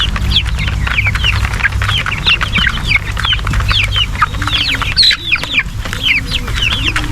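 Many Rhode Island Red chickens clucking and chirping continuously, with hens and roosters close by in a busy flock, over a low background rumble.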